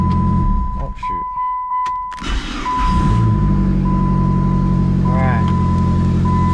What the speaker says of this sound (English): We're gonna turn this to on, hold it to start.